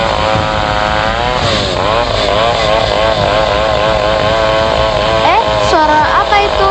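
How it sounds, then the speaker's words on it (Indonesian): A chainsaw cutting trees near a village forest drones steadily from a distance, its engine tone wavering and rising in pitch as it works, with children's voices and other background noise mixed in. "Tiba-tiba terdengar suara keras mesin pemotong kayu dari kejauhan."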